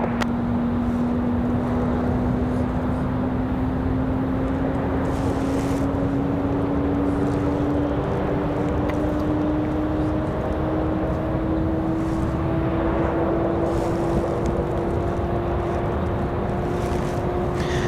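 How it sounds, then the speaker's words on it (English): A United Boeing 737 MAX 8 airliner departs toward Newark, its engines a loud continuous roar with a slowly rising whine throughout, steady and unbroken with no talk. "United 2175 off to Newark, New Jersey. This is 737 MAX 8."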